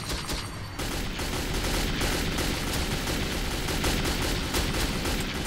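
Rapid gunfire in Metro 2033 rattles almost without a break, loud and close, a steady dense burst of shots filling the whole stretch.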